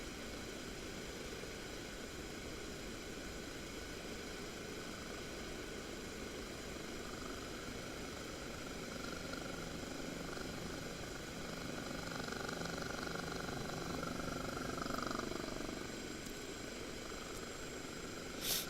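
Engine and rotor drone of a Kiowa helicopter in the DCS flight simulator game while hovering, a steady dense whine and hum that swells slightly toward the end.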